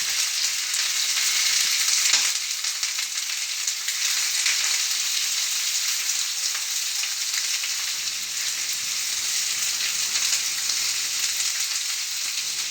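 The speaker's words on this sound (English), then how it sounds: "Nothing can get your kitchen cooking and get folks hungry like the smell of sauteed onions." Onions sauteing in a hot pan make a loud, continuous close sizzle and crackle that holds steady for the whole stretch, with no talking.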